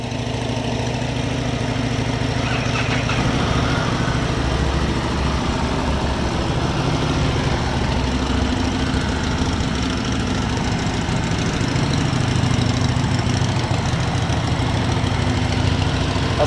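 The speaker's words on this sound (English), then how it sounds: "A slight rev of all the bikes." Several motorcycles, including a Harley-Davidson and a Triumph Street Triple, idle together in a steady, continuous engine rumble, close and moderately loud, with a slight rise in revs and no talking.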